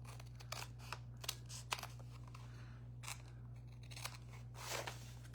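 Scissors cut through a paper envelope in a quiet room, a series of sharp, crisp snips and crunches at an uneven rhythm over a low steady hum.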